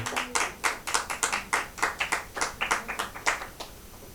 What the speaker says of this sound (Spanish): Dan un aplauso al Señor, hermano.